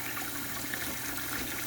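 Running water splashes steadily while model kit parts are washed with soap, a brief continuous trickle close by with no speech.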